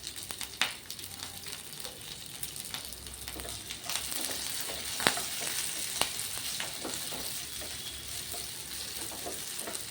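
Sabudana khichdi stir-fries in a pan with a soft, continuous sizzle and frequent light clicks and scrapes of a spatula against the metal.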